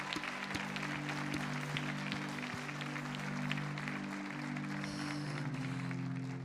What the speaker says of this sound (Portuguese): vamos aplaudir muito a presença do Senhor